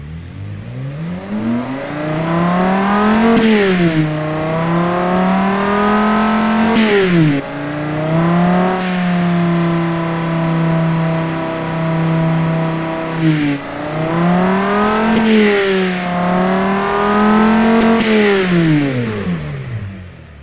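A V10 car engine in the Automation game revs repeatedly, pitch sweeping up and down in smooth loud cycles with brief drops between, steady and close with no talking.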